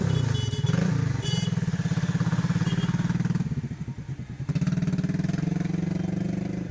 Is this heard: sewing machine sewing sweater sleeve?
no